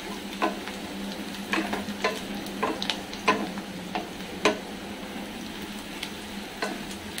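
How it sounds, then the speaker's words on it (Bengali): Four chopped onions fry in a kadai for mutton biryani, giving a steady close sizzle broken by sharp clicks and scrapes of stirring and no speech. "এদিকে পেঁয়াজের ব্রেস্তাগুলো ভেজে নেবো, দিয়ে দিলাম কড়াইতে পেঁয়াজগুলো"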